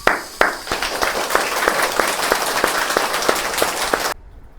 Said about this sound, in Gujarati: એમનું આપણે તાળીઓથી જોરદાર સ્વાગત કરીશું.